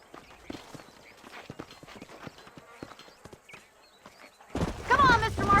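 Horse hooves clip-clop steadily in Red Dead Redemption, a run of sharp, close hits, before a sudden loud burst of noise takes over near the end.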